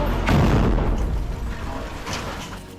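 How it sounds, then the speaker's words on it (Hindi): A heavy boom from a rocket launcher strike on an Israeli army vehicle in Khan Yunis, Gaza bursts out and rumbles, followed by a dull, noisy aftermath and a few fainter thuds. "इसके बाद वहां पर जोरदार धमाका होता है"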